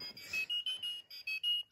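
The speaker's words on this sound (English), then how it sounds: "It has different alarm sounds." A talking watch for the blind sounds its alarm, a series of short high electronic beeps in quick repeated bursts, tinny from its small speaker.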